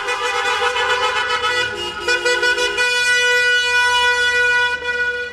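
Several car horns blare together in a street protest convoy in Istanbul, long sustained honks overlapping with a siren-like tone, loud and continuous throughout.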